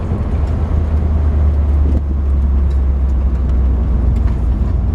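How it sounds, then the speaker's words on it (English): A 1964 Ford Galaxie convertible cruises along with a loud, steady low engine rumble and road noise, heard from inside the car. "The car drives really smooth."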